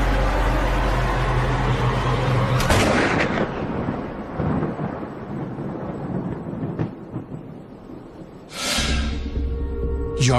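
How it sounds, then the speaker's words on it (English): Rifle shot fired on a firing range, recreating Lee Harvey Oswald's shot at a moving car target: a single sharp, loud crack followed by a long rolling echo, with a second loud burst near the end. "Personnel clear the firing range, and Michael Yardley takes Lee Harvey Oswald's shot"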